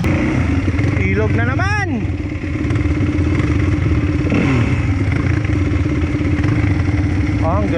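Motorcycle engine on an enduro trail, running loudly and steadily up close with a rising rev sweep, voices talking over it.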